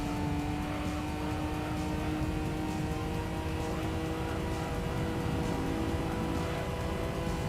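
A street-legal car in Gran Turismo 3 races around a track at high speed, its engine holding a loud, steady, high-pitched drone throughout with no breaks or voices.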